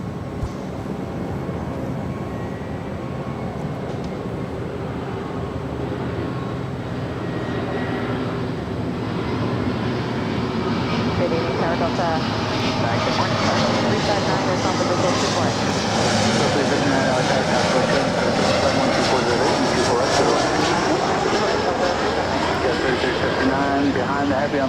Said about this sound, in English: Delta Airlines Flight 359 coming in from Nashville, Tennessee, a 737-900ER